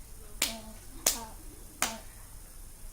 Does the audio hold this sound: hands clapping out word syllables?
yes